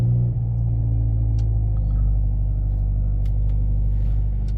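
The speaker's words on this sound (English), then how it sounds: "Let's just switch on the vehicle now" A 2023 Mercedes-AMG C 43 4MATIC being switched on, a low, steady engine rumble that settles into an even idle, close and fairly loud, with a few faint clicks on top and no speech.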